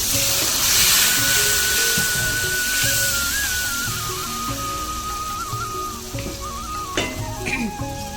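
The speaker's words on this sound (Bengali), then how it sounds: "আদাটা কুচিয়ে দিয়ে সামান্য পরিমাণে একটু জল দিয়ে দেবো" Spices and chopped ginger hiss and sizzle steadily in a hot pan as a little water is added, cooking the base for a Bengali cabbage chachchari made with fish head; the sizzle is loud, continuous and close, with no talking.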